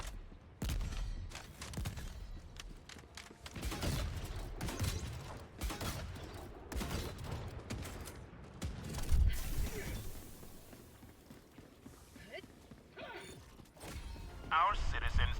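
Magazine reload clatter and bursts of gunfire from the video game Helldivers, busy mechanical clicks and shots repeating through the whole stretch, with a voice talking over parts of it.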